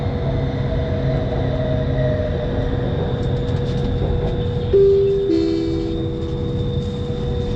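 Steady rumble and hum of a moving MRT metro train from inside the carriage, approaching Phra Ram 9 station, with a short two-tone chime sounding near the end.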